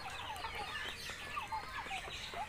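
Red-combed free-range village chicken clucking repeatedly in short, rising calls, fairly close, with other fowl chattering in the background.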